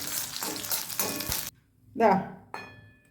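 Raisins frying in hot ghee give a close, steady sizzle that cuts off abruptly, followed by a brief clatter of a utensil against the pan and a short return of the crackle.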